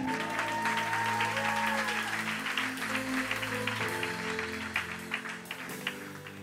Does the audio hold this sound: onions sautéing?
no